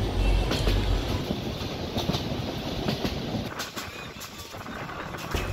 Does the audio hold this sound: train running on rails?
yes